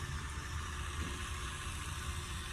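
A kHelfer electric spin scrubber runs steadily at its 300 RPM setting, a continuous low motor hum with an even hiss layered over it, moderately quiet and unbroken throughout.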